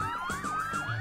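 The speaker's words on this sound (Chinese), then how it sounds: "警车呼啸而去以后" A police car's wailing siren rises and falls in repeated sweeps as the vehicle speeds off, loud and steady over a low engine rumble.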